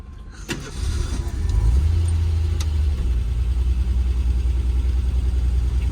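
A Ford Pinto engine sputters as it starts to die, then rises into a loud, sustained rev when the driver floors it, holding a steady throaty drone inside the car.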